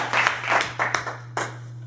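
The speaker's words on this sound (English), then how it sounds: "let's give a big round of applause for our" A small audience claps briefly for school staff, a few scattered bursts of hand claps fading quickly over a low steady hum.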